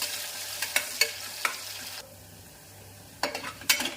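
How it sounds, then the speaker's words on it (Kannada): Onions frying in hot oil for veg pulao, with a steady crackling sizzle and several sharp stirring clinks of a spoon against the pan, a quieter gap in the middle, then more clatter, close by. "ಎಣ್ಣೆ ಕಾದಿದೆ, ಈರುಳ್ಳಿ ಹಾಕೊಳ್ಳೋಣ."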